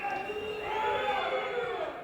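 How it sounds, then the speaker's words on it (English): Dandenong Thunder fans roar at a South Melbourne versus Dandenong Thunder soccer match after a penalty kick, a loud, sustained crowd cheer with shouting voices swelling across the whole moment. "And listen to the crowd. The Dandy fans are going off."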